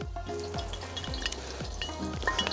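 Onions frying in hot oil in a kazan wok, a steady dense sizzle and crackle with occasional stirring scrapes, close and continuous without speech.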